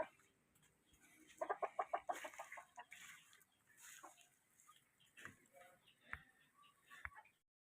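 Rhode Island Red chickens cluck close by in a quick run of sharp clucks, followed by scattered softer clucks and faint murmured talk in a quiet setting.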